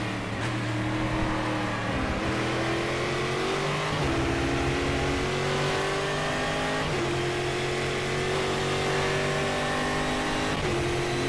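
Brazilian V8 stock car engine at Interlagos in Game Stock Car Extreme, loud and close, revving up through repeated gear changes with rising pitch sweeps dropping at each shift, alone without talk.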